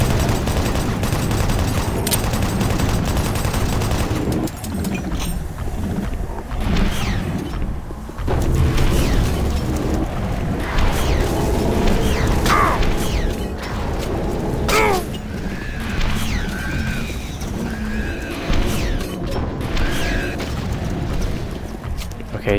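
Rocket launcher fire in the Doom 3 video game: repeated heavy booms and blasts in a dense, loud barrage mixed with mechanical clatter and game effects.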